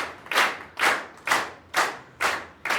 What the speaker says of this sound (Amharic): አጨብጭቡና መልሱልኝ።